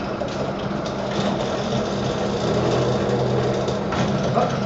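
A drill press bores through metal with a lubricated bit, giving a steady, close mechanical whir and grinding hum that runs unbroken for several seconds with no talking.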